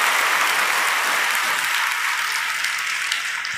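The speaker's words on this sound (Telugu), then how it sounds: "గట్టిగా చప్పట్లు కొట్టి దేవుని మహిమపరచండి" Loud, sustained clapping from a church congregation, dense and even throughout with no pauses, filling the space as many hands applaud together to glorify God during a Telugu sermon.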